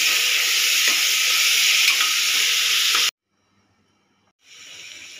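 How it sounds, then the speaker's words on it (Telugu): Onions frying for a mutton drumstick curry give a steady, loud sizzle for about three seconds, then cut to near silence before a softer sizzle returns at the end. "వేగే వరకు ఫ్రై చేసుకుందాం."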